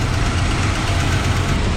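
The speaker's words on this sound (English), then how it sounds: "I do like this single exhaust. Sounds good." A Mopar 383 big block engine in a lowered shortbed muscle truck idles through a single exhaust, a steady deep rumbling loop close by with a faint ticking lifter, no voices.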